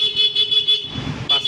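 Horn on a Suzuki Raider 150 Fi motorcycle fitted with a Thai switch, a steady electric beeping tone pulsing in short regular bursts, loud and close, with a brief gap and faint talk.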